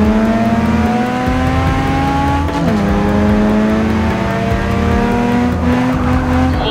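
A race car engine screams at high revs in Forza Motorsport 6, with gear shifts audible as the pitch drops and climbs again, loud and continuous with faint tire noise.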